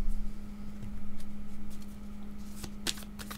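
Tarot cards being shuffled up close during a reading, soft riffling and sliding bursts with a few sharper snaps, quiet over a steady low hum.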